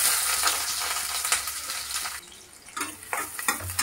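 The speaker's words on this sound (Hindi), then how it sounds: "अब हम इसको इसमें डालेंगे प्याज को।" Onions sizzle steadily in a pan with Kashmiri red chilli and turmeric while a spoon stirs and scrapes, loud frying noise throughout with a few clinks of utensil against the pan.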